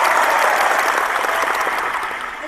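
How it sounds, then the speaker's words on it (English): A loud burst of applause and cheering from a small group, close and dense at first, then gradually tapering off toward the end. "Please, I want applause."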